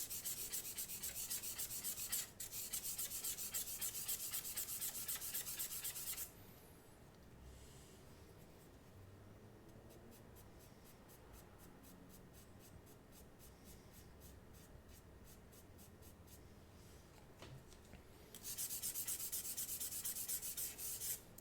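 Charcoal being rubbed and smoothed across paper while refining a drawing of clouds, heard as close, dry scratchy rubbing in two loud bursts at the start and end with a quieter, softer stretch of rubbing between.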